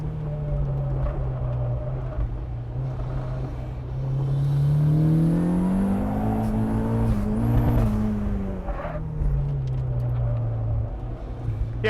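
A turbocharged Mazda Miata runs on a race track, its engine droning steadily from up close, rising in pitch as it accelerates through the middle and easing back down, while someone talks over it.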